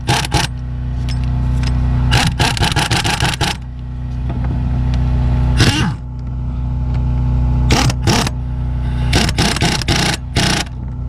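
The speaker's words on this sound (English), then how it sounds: "All right, let's tighten these up." Ratcheting and impact-style bursts tightening 15 mm harmonic balancer bolts on a 2003 Chevrolet Impala, several loud clustered rattling bursts separated by pauses over a steady background hum, close to the listener.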